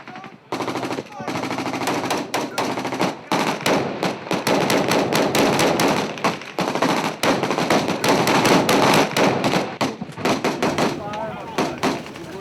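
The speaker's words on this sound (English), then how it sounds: "Oh, there's fire coming. They're shooting." Bursts of machine-gun and rifle fire during combat, with support fire from a base, rapid loud cracks in long irregular volleys; voices are heard among the shooting.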